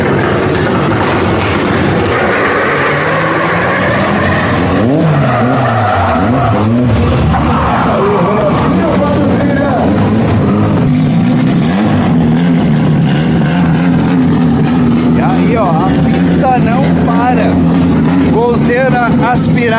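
Turbocharged drag racing cars, a Chevette AP 20v turbo and a Gol, roar loudly and continuously with revving engine notes and sweeping pitch changes, while someone talks in Portuguese over the noise.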